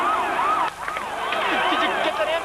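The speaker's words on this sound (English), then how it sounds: "Did you get that ambulance?" An ambulance siren wails and sweeps in repeating up-and-down tones as it passes, loud and steady over traffic noise, with no talk.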